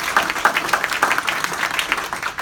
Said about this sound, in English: Give yourselves a round of applause for that type of production